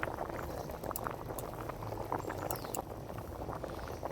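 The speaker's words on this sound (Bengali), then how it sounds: "এবার আমি এই যে ঘিটাকে বের করে রেখেছিলাম সেটা আমি দিয়ে দিচ্ছি এই ফোটের উপরে।" A tangra fish curry bubbles vigorously in a pot as ghee is added, with close continuous boiling and popping and a few sharp crackles from the hot fat, with no talk.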